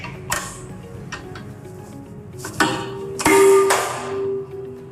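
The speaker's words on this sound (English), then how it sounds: "The test piece flew out in front of the hammer." A Charpy impact testing machine's pendulum hammer is released and strikes a steel test piece, giving sharp metallic clicks and a loud clanking impact with a ringing, rattling tail, close up and with no speech.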